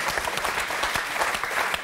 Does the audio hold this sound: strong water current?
no